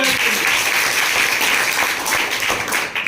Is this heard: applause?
yes